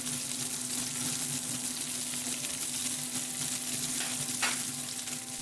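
Vegetables for shukto, a Bengali mixed-vegetable dish, frying in oil in a pan, giving a steady, close sizzle throughout with a soft clatter near the end.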